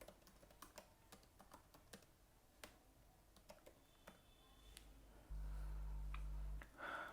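Keys clatter quietly as a command is typed on a computer keyboard, a sparse run of light clicks and taps in a quiet room, followed by a steady low electronic hum near the end.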